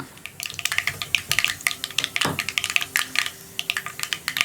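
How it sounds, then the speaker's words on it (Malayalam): Rapid, irregular crackling pops of mustard seeds spluttering in hot oil, close and continuous with a steady sizzle underneath, while cooking ivy gourd stir-fry. "കടുക് ചേർത്തിട്ട് കടുകൊന്ന് പൊട്ടി വരട്ടെ."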